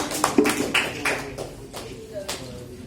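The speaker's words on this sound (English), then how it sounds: "Clap for us." Children at a school Republic Day speaking session clap at the end of a short speech, a few light, scattered claps at a distance under faint background voices.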